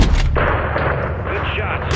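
Loud, close gunfire in Call of Duty Modern Warfare III, a heavy blast that rings out and sustains, then another sharp shot at the end, with game noise underneath.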